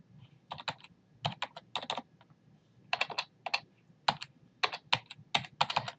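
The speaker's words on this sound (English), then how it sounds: "Sorry about my typing." Bursts of quick clicking keystrokes on a computer keyboard, typed in uneven clusters with short pauses between them, close and fairly quiet with no talking.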